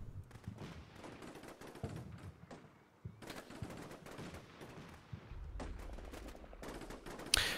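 Automatic grenade launcher and mortar fire rattle through a Russian assault on a checkpoint in Combat Mission: Black Sea. Dense bursts of rapid shots and thuds come in clusters, a brief lull breaks them near the three-second mark, and a deep rumble builds toward the end.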